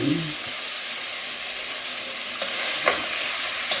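Meat frying in olive oil for chili con carne, a loud, steady close-up sizzle with faint stirring scrapes near the end.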